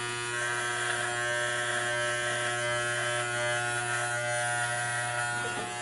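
T-Outliner electric clippers trim a beard line, a steady close buzzing hum that runs evenly and alone throughout.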